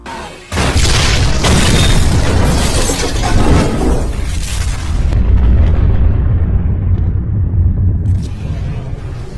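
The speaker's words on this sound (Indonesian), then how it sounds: "truk pun jatuh di selokan air yang kering, yang mengakibatkan truk meledak" A sudden, massive explosion bursts in, followed by a sustained roaring rumble with crackling debris, loud and close throughout.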